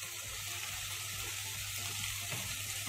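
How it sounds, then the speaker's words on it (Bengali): Boiled vegetables for an aloo sabzi being stirred into fried spices in a pan, a dense, steady hissing sizzle with faint stirring movement underneath, close and continuous, no talk. "ভালো করে নেড়ে চেড়ে মিশিয়ে দিচ্ছি"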